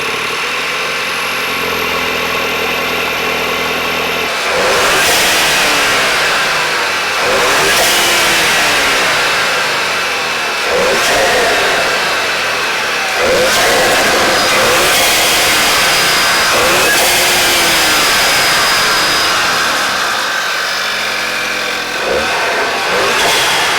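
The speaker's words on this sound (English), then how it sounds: "start it up, give it a few revs," A Volkswagen GTI fitted with a cold air intake fires up and settles, then is revved several times in loud repeated surges that rise and fall back to idle, close and dominant with no talk.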